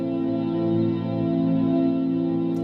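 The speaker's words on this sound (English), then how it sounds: "it's like multiple delays, I think, that is slowly blurring into a reverb type effect" A Soma Cosmos synth-effect drone holds a sustained, layered tone in which stacked delays smear into a reverb-like wash. It stays loud and continuous throughout.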